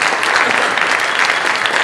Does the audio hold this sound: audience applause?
yes